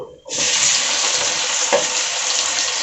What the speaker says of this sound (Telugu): ఇప్పుడు ఇందులోకి టమాటాలు వేసుకుందాము